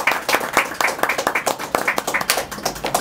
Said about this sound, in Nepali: हामी सबैले ताली बजाएर पनि हामी उहाँहरूलाई बधाई दिन्छौँ